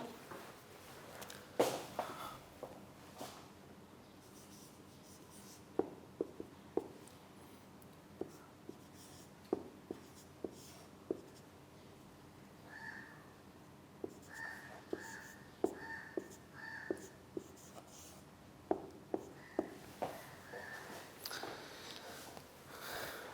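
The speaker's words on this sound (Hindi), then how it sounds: "मैं इधर आप बच्चों के लिए लिख भी देता हूँ" Chalk or marker strokes on a classroom board during a lecture, a run of short scratchy taps and squeaks repeating irregularly over a quiet room, fairly close and moderately loud.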